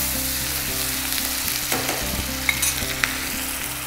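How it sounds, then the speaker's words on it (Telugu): Onion pieces fry loudly in about two tablespoons of hot oil with turmeric, ginger-garlic paste and curry leaves, a dense close sizzle with a few sharp clicks of stirring. "సో ఒక 2 టేబుల్ స్పూన్స్ నూనె వేసి అందులో ఉల్లిపాయ ముక్కలు వేయాలి"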